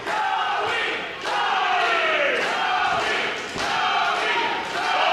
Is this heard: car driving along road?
no